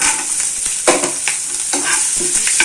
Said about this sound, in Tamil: சின்ன வெங்காயமும் போட்டு தாளிச்சிக்கலாம்